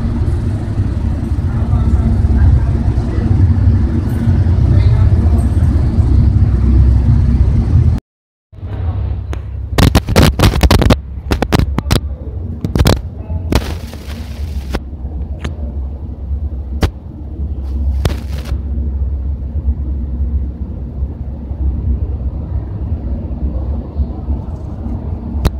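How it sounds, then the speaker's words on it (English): A SEPTA light rail flatbed work car rumbles past on the tracks at a 19th Street stop, a steady low mechanical roar with a brief dropout and sharp clanks and squeals midway, people talking nearby. "That's not a trolley, that's a work car."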